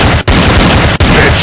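Gunfire in the blocky shooter video game Block Gun, a dense, continuous run of loud broadband blasts with two brief gaps, the shots blurring together into a steady roar.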